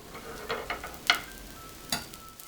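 Pancake batter sizzles in a frying pan, a soft steady crackle near the mic with a few brief louder spits and scraping touches, no talking.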